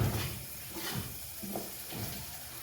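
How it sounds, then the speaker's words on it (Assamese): Spices frying in a pan for a pigeon curry, a soft steady sizzle with faint bubbling and an occasional light scrape or stir, close and fairly quiet throughout. "মছলাখিনি ভাজি আছোঁ।"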